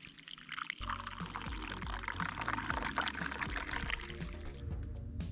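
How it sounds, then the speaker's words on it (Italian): Coffee pours from a titanium French press in a continuous close trickle with small splashing, steady for several seconds with no talking. "Filtriamo, ecco, fino in fondo, andiamo a versare."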